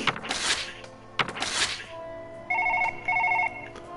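A telephone rings in two short electronic bursts after a couple of dull thumps and a clattering rustle, heard close and on its own with no talk.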